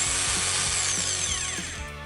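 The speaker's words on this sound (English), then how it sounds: "A rotary hammer is much alike with a standard power drill. Pull the trigger and it runs." A handheld rotary hammer runs steadily once its trigger is pulled, a loud, continuous high-pitched motor whine with a faint rhythmic pulsing underneath, easing slightly in pitch toward the end.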